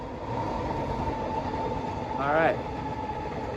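A train rolls past close by with a steady broad rumble and a brief squealing rise near the end, while a skateboarder speaks a couple of words over it.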